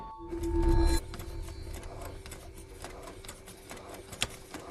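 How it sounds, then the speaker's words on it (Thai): A DOCOD LD-S1000 CIJ continuous inkjet expiry date printer runs with a brief hum at the start, then a steady close mechanical ticking and whirring with one sharper click near the end. "เครื่องพิมพ์วันหมดอายุระบบ CIJ รุ่นดูคอด LDS 1000 แบบเติมหมึก"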